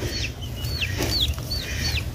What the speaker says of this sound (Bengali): এই 2টা মুরগির বাচ্চা হলো একটু পর পরে আর কি খাইতে দিতে হয়, তা না হইলে খুব ডাকাডাকি করে